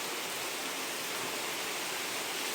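Torrential downpour falls over potted plants in the rainy season, a thick unbroken roar of water, close and steady throughout, with no voices.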